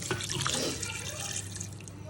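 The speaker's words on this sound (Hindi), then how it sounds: "इसमें अब मैं पानी डाल के तो इसको रख दूँगी पकने के लिए" Water pours steadily into a cooking pot of beef boti seasoned with chilli paste and black cardamom, a continuous splashing, running flow heard close and alone.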